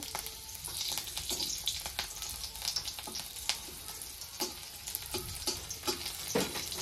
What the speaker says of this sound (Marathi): ह्यातच मी लसूण पण टाकून घेते। लसूण पण भाजला पाहिजे ह्यात।